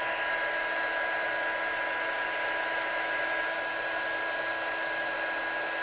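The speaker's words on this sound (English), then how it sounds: "Heat gun is the absolute must-have tool for embossing." A heat gun used for melting embossing powder in a stamping craft setup runs with a steady, close, unbroken whir and fan hiss, with a constant tone throughout and no talk.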